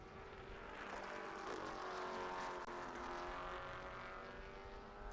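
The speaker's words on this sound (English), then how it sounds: "Valentine out front in Formula Ford with Steer, Hatley, Stubber, Madrid, Linton, Carnop, and Sherm Johnston behind him" Formula Ford race cars howl steadily past on a road racing circuit at Mid-Ohio, a loud continuous engine drone with rising and falling revs as several cars stream by together.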